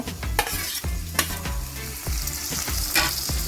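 Chopped tomatoes frying in oil for egg bhurji, a bright close sizzle punctuated by quick metallic stirring scrapes and clinks of a spatula against the pan.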